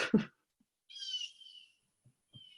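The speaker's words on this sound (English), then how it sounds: "Somebody got a bird in their house." A bird calls inside a house, a short high chirp followed by a longer warbling call, faint and heard alone with small background noises.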